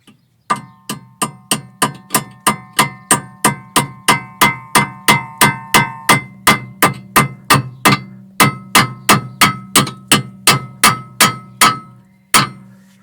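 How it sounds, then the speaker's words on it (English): A copper hammer steadily taps a thread insert into an ATE brake caliper. There are about thirty sharp metallic strikes in an even rhythm, loud and close, with a brief pause near the end before a final blow. "Now we're just going to need to hammer it in."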